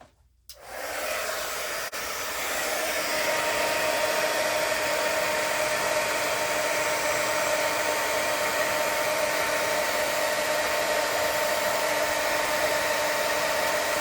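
A heat tool clicks on and blows hot air over a stamped image, a steady close whooshing hiss that rises quickly and holds evenly without pause.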